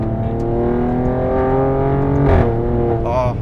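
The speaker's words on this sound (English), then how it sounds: "Oh, those upshifts." Alfa Romeo Stelvio Quadrifoglio SUV engine pulling hard, a loud rising rev that cuts off sharply at an upshift and climbs again, heard from inside the cabin.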